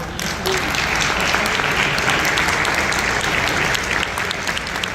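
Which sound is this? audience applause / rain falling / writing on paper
audience applause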